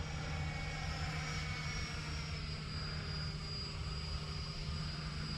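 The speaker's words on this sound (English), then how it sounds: "Oh, what a sweet flying little jet." A Freewing Yak 130 RC model jet flies overhead, its electric ducted fan giving a steady, continuous whine and rushing hiss that holds level throughout, heard alone without talk.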